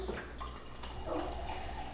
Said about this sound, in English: Add my 2 cups of water